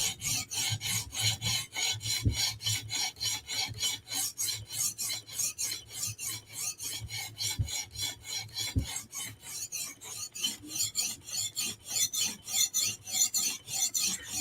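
A knife is sharpened on a TSProf Kadet guided sharpener, its stone rasping across the blade in steady back-and-forth strokes, close and rhythmic, roughly two per second for a long stretch.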